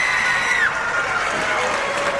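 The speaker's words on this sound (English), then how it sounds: "Deming crowd making a lot of noise." Loud crowd noise fills a high school basketball gym during a 1988 double-overtime game between Mason County and Deming, with the Deming fans cheering and shouting after a free throw. A sustained roar carries a brief whistle-like tone near the start.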